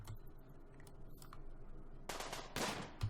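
Colonists in the video game RimWorld open fire, with quiet ticking leading into short, sharp bursts of gunshots near the end.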